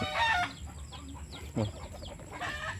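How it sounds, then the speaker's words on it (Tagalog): Farmyard chickens cluck loudly and close by in short bursts, and a rooster's crow-like call rises near the start and again at the end. "So na yung mga manok guys,"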